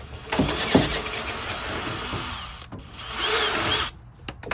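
A cordless drill in low gear torques a bolt through the last stretch during a front hitch install on a Class C RV, a steady nearby whir with a brief high burst near the end and a few short clicks.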